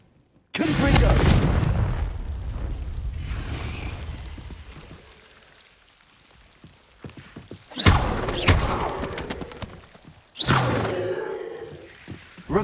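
A Confringo blasting spell in the Hogwarts Legacy video game erupts in a heavy booming blast that decays slowly, followed by two more sharp crackling bursts later, with no talk over it.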